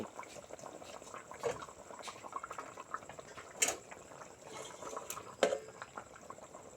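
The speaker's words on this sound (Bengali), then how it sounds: "এবার আমি ঝোলটা ভালো করে ফুটিয়ে নিব পুরা ঝুল ফুটে গিয়েছে" Rohu fish curry broth with potatoes bubbling in a pan, a steady soft burble of boiling liquid with occasional louder pops, close by and without voices.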